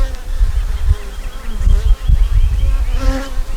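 Honey bees hum loudly and continuously up close at a fed hive full of brood and eggs. The dense, wavering buzz swells and shifts in pitch as insects pass near.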